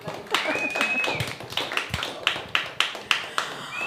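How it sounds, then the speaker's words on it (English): A small open mic audience gives scattered, sparse clapping, a few individual claps at first, then a thin run of separate claps, faint and close, with a short whistle-like tone at the start and end. "Another round of applause for George"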